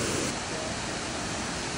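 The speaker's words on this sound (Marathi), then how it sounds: "हा उन्हाळ्यामध्ये सुद्धा अतिशय खळाळून आणि फेसाळपूर्ण असा हा धबधबा वाहतो" The Triberg waterfall in Germany's Black Forest, foaming and gushing even in summer, produces a dense, continuous roar of rushing water heard up close at a constant loud level.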